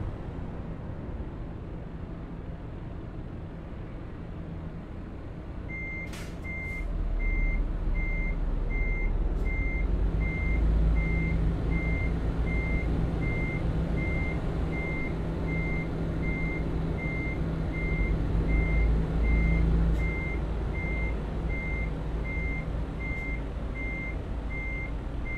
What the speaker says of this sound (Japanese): 右バックで入っていくわ